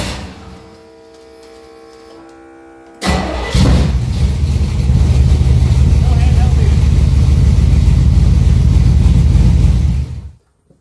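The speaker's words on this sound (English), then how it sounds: "how much louder the lift pump is now that it's mounted to the inner fender" After a short quiet hum, a fuel lift pump mounted to a truck's inner fender kicks on abruptly and runs as a loud, steady mechanical drone before cutting off.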